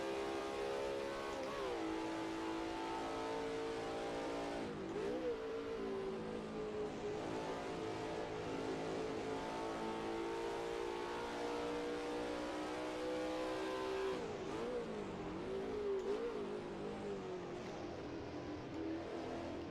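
A Holden VH Group C touring car's big engine drones steadily throughout in Assetto Corsa, its harmonic whine rising and falling through gear changes around the five and fifteen second marks, loud and close with no talk.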